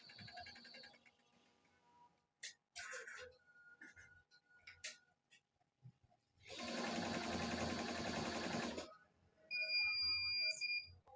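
A computer embroidery machine starts up in a workshop, with scattered clicks and beeps before a loud, dense mechanical run of stitching for about two seconds, then high electronic tones.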